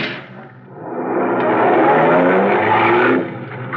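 Car engine roaring loudly during a radio drama police car chase, the motor surging and sustained for several seconds with a rising pitch, close and alone without talk.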